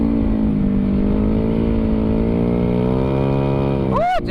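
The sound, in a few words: motorcycle engine running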